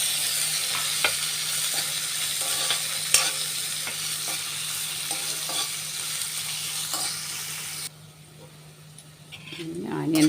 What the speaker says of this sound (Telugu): ఒక ఉల్లిపాయ, ఒక పచ్చిమిర్చి, ఇవి కూడా చక్కగా మనం దోరగా వేయించుకుందామండి